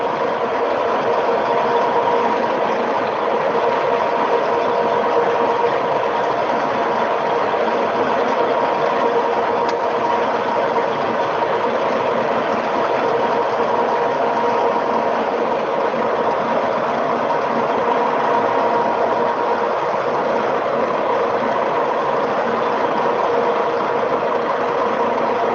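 A lathe runs steadily at a centering operation with a drill bit clamped in the tailstock. It gives a continuous machine hum with an even, unchanging tone throughout, and no voices are heard.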